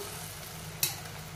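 A river fish mixture with vegetables cooks in a pan after water is poured in, giving a soft steady sizzle and bubbling with one short sharp hiss in the middle, quiet and close.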